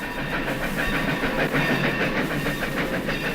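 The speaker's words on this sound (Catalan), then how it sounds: "El tren feia camí per l'Índia." A train runs on rails through India as a radio-drama effect, a continuous loud rumble with rhythmic clickety-clack over the track joints and a hissing, steam-like wash, with no voices.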